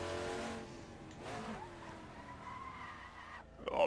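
Tires screech and skid as a Group C touring car locks up under hard braking into a hairpin in Assetto Corsa, a drawn-out squeal over engine noise that fades before a burst at the end.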